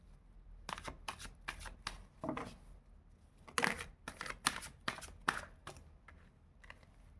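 Tarot cards being shuffled by hand, a series of quiet, crisp riffling bursts and flutters with brief pauses between them, close and alone.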